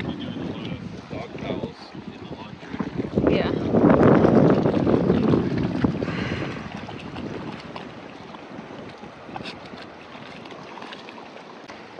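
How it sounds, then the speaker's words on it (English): Strong gusty wind on Hornby Island buffets the microphone in a loud rumbling roar that swells in the middle, with people talking faintly underneath. "it's so windy"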